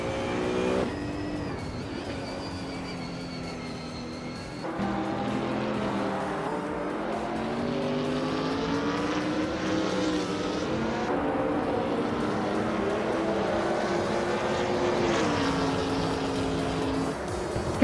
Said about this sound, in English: Nolavi is driving a Hyundai Genesis Coupe GT4R.